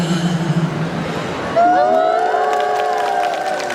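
An audience claps and cheers for a singer at a beauty and medical fair event, a lively crowd of applause with whoops, while a microphone voice or feedback tone rings over the second half.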